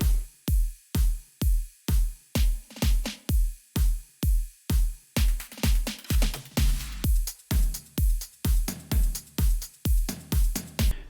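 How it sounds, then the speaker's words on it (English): A progressive house electronic drum loop with reverb and glue compression: a punchy kick on a steady four-on-the-floor pulse with snappy hits between, getting busier into fills midway, loud and alone. "And altogether, the drums sound like this."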